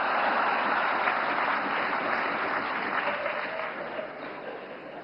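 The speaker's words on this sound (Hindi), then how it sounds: "नवकार मंत्र के लिए जितनी ताली बजी, उससे ज्यादा जीतों के लिए बज रही है।" Audience applauding at a Navkar Mahamantra Divas event in Vigyan Bhawan, New Delhi: a dense, steady wash of clapping from a large crowd that holds for the whole stretch and fades slightly toward the end.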